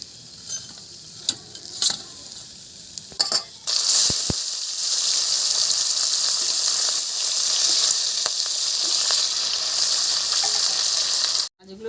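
Pieces of local rohu fish fry in hot oil. Soft clicks and taps come first, then a loud, steady sizzle that holds for several seconds before cutting off abruptly.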